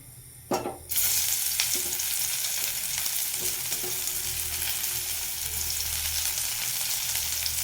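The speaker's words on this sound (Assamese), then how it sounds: "এতিয়া মাছ ভাজি তেলতে মই পিঁয়াজখিনি বহাই দিম" Onions are dropped into hot oil left over from frying fish, bursting into a loud, continuous sizzle after a brief quieter moment, with occasional stirring clicks from a utensil.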